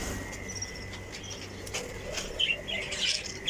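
A young wild bird taken from a tree and kept on a cockatiel bird farm chirps faintly and flutters its wings in quick bursts against low background noise.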